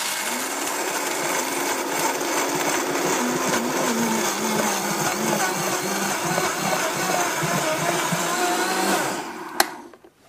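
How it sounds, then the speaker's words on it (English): A Vitamix blender grinds almonds into flour with a loud, continuous motor whir and gritty churning for nearly ten seconds, then cuts off abruptly, followed by a brief click and near silence. "So this is the almonds in the Vitamix, and you're going to see how fast this is."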